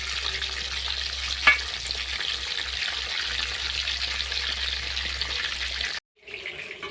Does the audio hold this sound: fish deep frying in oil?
yes